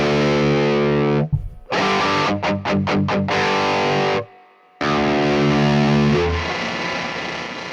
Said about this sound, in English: so this volume 1 is a distortion.